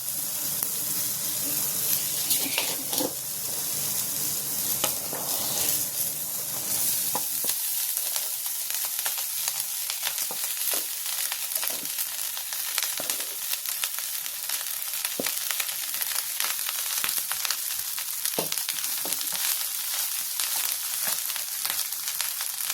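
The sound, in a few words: rice frying and being stirred in a pan for jeera rice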